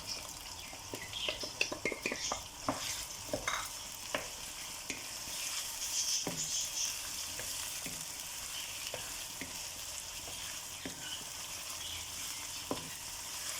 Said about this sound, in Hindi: इसको हम अच्छी तरह फ्राई कर लेंगे